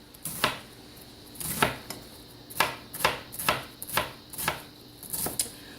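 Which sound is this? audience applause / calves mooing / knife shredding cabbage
knife shredding cabbage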